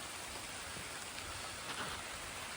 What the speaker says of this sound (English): It's pouring rain though